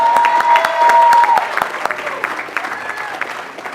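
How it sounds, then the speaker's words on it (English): Audience applause fills a university political science graduation ceremony, a loud steady roar that slowly thins and tapers off, with a voice and a brief tone audible over it. "So let's give Darren a round of applause"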